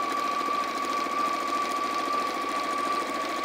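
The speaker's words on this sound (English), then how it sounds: "I would do another line of stitching" Close and steady, a sewing machine runs a line of stitching on a cushion, a continuous rapid mechanical whir with a faint high whine, unbroken throughout and with no talking.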